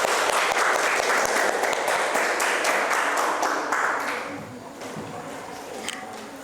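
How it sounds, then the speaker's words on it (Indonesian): A classroom group gives a burst of applause, many hands clapping briskly and loudly together before the clapping thins and fades away toward the end. "Kita beri aplaus dulu dah."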